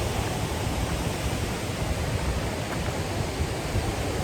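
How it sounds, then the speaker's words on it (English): A swollen river roars with a steady, dense broadband rush, and traffic noise blends into the continuous wash. The sound stays close and loud throughout, with no voices. "You can hear me over the roar of this river and the traffic."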